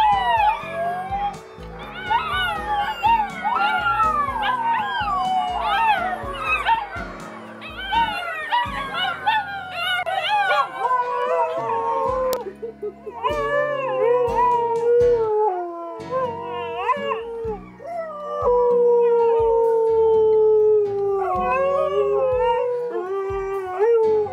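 Several dogs and puppies howl together in Alaska in long, wavering, overlapping wails that rise and fall, loud and close, continuing for the whole stretch with brief yips mixed in.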